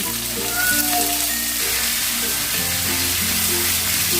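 Sliced onions sizzle steadily in hot oil with a dense, crackling hiss, close up and continuous throughout.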